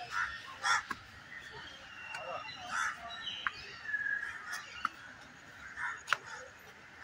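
Birds calling inside the aviary at Byculla zoo in Mumbai, scattered caws and chirps at a moderate distance over a soft ambient hum, with faint background voices now and then.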